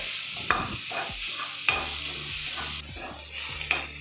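Prawns fry in a pan with a continuous sizzle, while a spoon stirs them and clinks against the metal in several sharp knocks.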